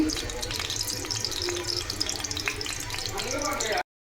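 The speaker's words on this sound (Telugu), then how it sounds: "ఇప్పుడు తాలింపు గింజలు వేసేసానండి" Tempering seeds drop into hot oil in a home kitchen, giving a steady close hiss and crackle of sizzling that runs for nearly four seconds, then cuts off abruptly.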